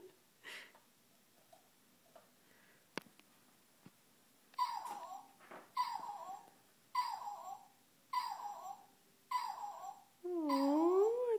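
A robot toy dog's small electronic whimper repeats in short, evenly spaced bursts, each a whiny rising cry, ending in a longer wavering whine; softer rustles and clicks precede it.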